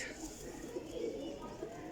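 Young pigeons of several fancy breeds kept for sale, faint low cooing in soft repeated murmurs over a quiet steady background.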